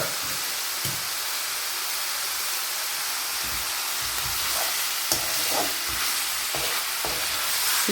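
Chicken pieces sautéing in a hot pan with curry leaves and pepper, a steady loud sizzle broken by repeated scraping stirs of the spoon against the pan.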